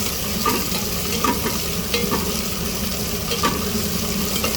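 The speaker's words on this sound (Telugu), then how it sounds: "పచ్చిమిర్చి వేస్తున్నాను" Green chillies for upma fry in a pan with a steady, dense sizzle, broken by a few light stirring scrapes, loud and close.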